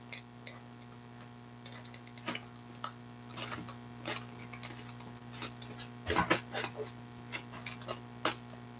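A sewing machine top-stitches a bag, its motor giving a steady low hum while scattered light clicks and taps come and go through the run.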